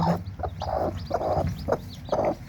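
A white village hen with her chicks clucks close by in short, repeated bursts, a fussy protective call with low rustling behind and no talk.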